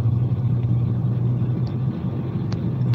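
From inside a moving car, a steady low engine hum and road rumble drone on continuously, with a couple of faint clicks; no talking.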